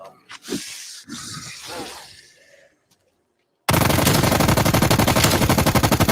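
Rapid automatic gunfire erupts loud and sustained in a zombie shooter video game, a dense continuous burst that follows a few seconds of quieter game sounds and a short silence.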